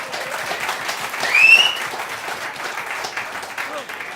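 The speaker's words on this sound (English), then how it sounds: "Round of applause, please." Audience applause greets a Madness Q&A session with a host at Spiritland, a moderate wash of clapping that swells briefly near the middle, with speech-like sounds mixed in.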